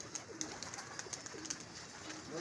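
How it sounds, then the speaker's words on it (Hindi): Pigeons at a pigeon club, faint soft cooing and chirpy bird calls in a few scattered bursts, fairly distant against a quiet outdoor background. "ये जोड़ों वाला कबूतर है सनी भाई, ले आओ।"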